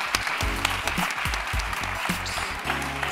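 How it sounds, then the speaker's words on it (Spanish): Audience applause at an award ceremony during a medical congress, loud sustained clapping with distinct nearby claps popping out of the crowd, steady throughout with some low tonal sound underneath. "Un fuerte aplauso, por favor"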